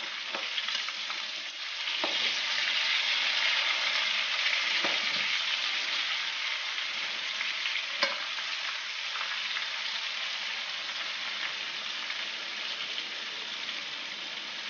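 Tunisian stuffed peppers sizzle and fry steadily in a pan after being turned over, a continuous bright crackle with a few soft knocks and clinks, no voices.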